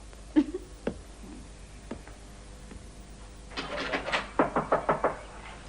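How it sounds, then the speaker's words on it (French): A few scattered knocks, then a quick run of sharp raps in a steady rhythm, like someone knocking on a door nearby. "On frappe à la porte."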